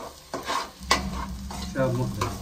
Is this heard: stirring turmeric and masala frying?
yes